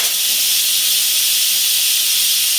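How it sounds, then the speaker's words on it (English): Steam hisses steadily from the release valve of a pressure cooker turned to venting, a loud, continuous broadband rush that holds constant for the whole stretch with no talk over it. "we're going to turn this knob to venting and some steam should come out"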